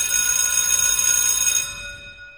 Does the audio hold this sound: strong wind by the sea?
no